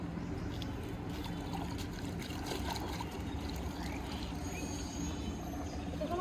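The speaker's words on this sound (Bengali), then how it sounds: "আমি বালতিতে জল নিয়ে এসেছি, এগুলো সুন্দর করে ধুয়ে দিয়ে উঠাবো" Chola greens are washed in a bucket of water, giving a continuous close sloshing, trickling and splashing that carries on steadily without pause.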